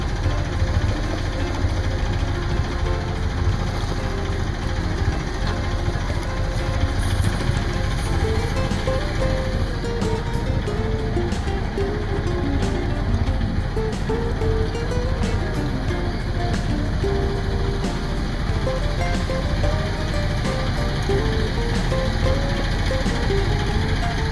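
A sailboat's engine drones on steadily for the whole stretch, a constant low rumble with faint higher tones floating above it.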